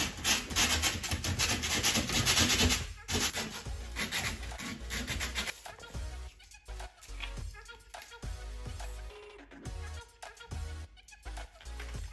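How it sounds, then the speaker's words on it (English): Plaster patching around a toilet cistern is rubbed down by hand with loud, close, rhythmic sanding strokes, continuous at first and then broken into shorter passes. "give this a good sand now already"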